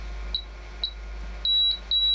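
An Agilent E3633A bench power supply beeps an error: short high-pitched beeps, two single beeps, then a pair of longer, louder tones, with a steady low hum underneath.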